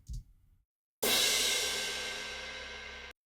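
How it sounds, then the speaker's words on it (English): A single crash cymbal hit strikes sharply after a brief faint sound, then rings out with a long, bright, slowly fading wash until it cuts off. "So just a simple cymbal sample. Here it is forward."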